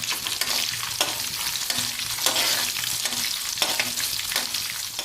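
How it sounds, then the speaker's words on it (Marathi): Peanuts, a handful added to hot oil in a pan for Maharashtrian kande pohe, sizzle steadily while a spatula scrapes and stirs in repeated strokes, close and fairly loud with no voices. "हे थोडं आपण हलवून घेऊयात आणि यातच मी टाकणार आहे थोडे शेंगदाणे।"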